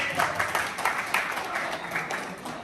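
Applause for Luka at a Christmas gathering of an Urdu church in Antwerp, steady clapping from a room of people with a few louder claps standing out.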